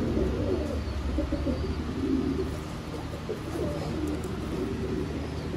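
Indian pigeons kept for sale cooing, soft repeated low coos layered over a steady background murmur, close and continuous.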